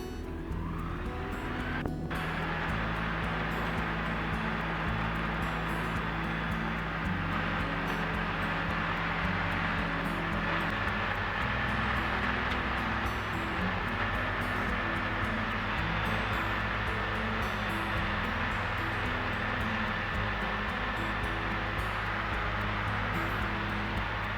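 A Skyranger microlight's engine drones steadily at full power through takeoff and climb out of a small airfield, a continuous loud hum with wind rush throughout and no voices.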